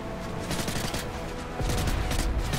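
MP5 submachine gun fire in the shooter game Modern Warfare 3, with loud rapid bursts of automatic shots over a busy battle backdrop, heavier thumps joining near the end, no talk.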